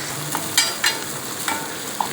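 Onion, garlic and green chili sautéing in a pan for a roasted eggplant dish: a continuous close sizzle broken by several short stirring clatters, with no voices.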